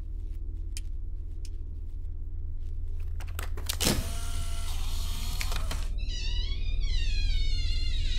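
A cat meows in the MADiSON horror video game, a series of short, wavering meows near the end following scattered clicks and a brief rising whine over a steady low hum.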